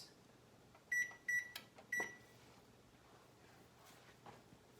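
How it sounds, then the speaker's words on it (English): A kitchen timer on the stove gives three short, clear electronic beeps as it is set for one minute during no-bake chocolate oatmeal cookie making, in a quiet kitchen with faint background hum. "I'm going to set the timer for 1 minute."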